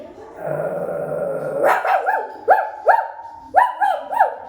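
A voice imitates an angry big dog and small dog, starting with a low growl and then giving a string of short, sharp barks in uneven bursts.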